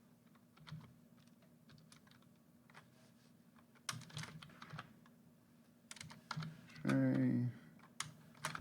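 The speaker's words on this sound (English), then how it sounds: "So I'm just going to write in some, or type in some names." Names being typed on a computer keyboard: scattered quiet key clicks in short bursts, close and soft, with a brief spoken word partway through.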